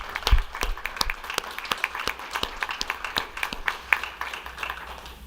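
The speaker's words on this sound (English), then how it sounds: "So let's give them a round of applause." Attendees at a school board business meeting applaud award recipients, sparse and uneven claps from a modest group, moderately close, with a few louder individual hits.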